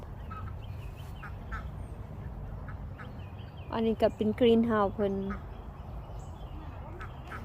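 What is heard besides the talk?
ducks quacking near water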